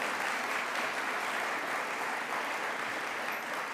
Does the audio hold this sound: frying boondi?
no